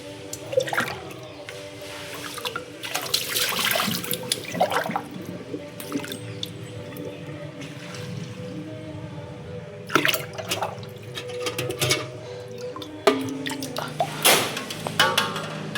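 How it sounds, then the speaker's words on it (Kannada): Water poured and splashed onto garden plants at home, with irregular bursts of splashing and trickling, some louder gushes and drips in between, close by, with faint household sounds and tones in the background. "ಬನ್ನಿ ಗಿಡಗಳಿಗೆ ನೀರು ಹಾಕ್ಬಿಟ್ಟು ಬರೋಣ."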